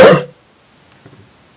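One short, sharp cough sounds close and loud at the start, followed by near silence with only a faint murmur.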